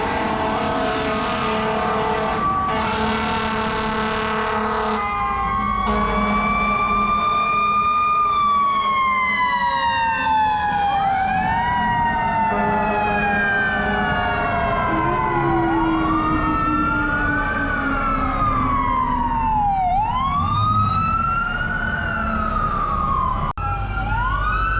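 New York fire engine sirens pass on a city street, loud wailing and yelping tones that rise and fall and overlap for a long stretch, with engine rumble and traffic noise underneath.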